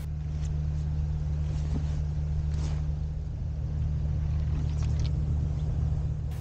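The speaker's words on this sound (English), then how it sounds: "The humming, an engine noise that you can hear, is from the unshipping of timber at Baltic Wharf to my right." Low, steady engine hum from machinery unloading timber at a wharf on a cold, drizzly riverside, droning continuously at a distance under faint outdoor ambience.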